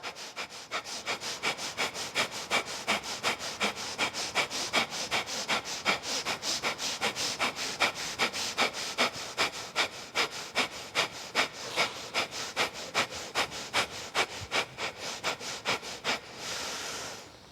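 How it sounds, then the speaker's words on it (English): Rapid, energizing yoga breathing: fast, forceful breaths pumped in a steady, even rhythm of sharp, airy pulses several times a second. Close and clear throughout, with no talking, easing off in the last second. "You could play with the pace so you could really pump the breath."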